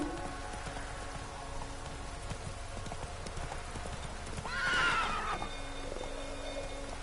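Roach the horse in The Witcher 3 video game, a steady clip-clop of hooves under light rain, then one loud close neigh about two-thirds of the way through, no talk.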